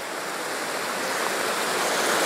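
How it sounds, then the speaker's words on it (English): A Colorado stream rushes close by in a dense, steady broadband roar of water that holds constant throughout, with no voices over it. "Hopefully you can hear me over the rushing water."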